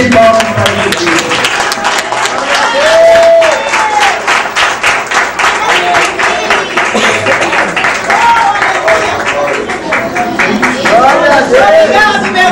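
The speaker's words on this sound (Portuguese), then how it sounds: "Uma força de palmas para Jesus." Congregation at a children's church congress claps loudly and steadily in sustained applause, with voices and shouts mixed throughout the crowd noise.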